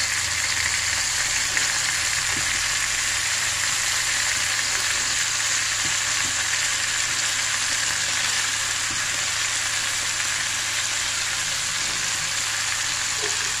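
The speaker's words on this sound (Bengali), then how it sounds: "এবার বেগুনগুলো দিয়ে দিই।" Eggplant pieces fry in hot oil with a dense, even sizzle that stays loud and close for the whole stretch, with occasional faint clinks beneath it.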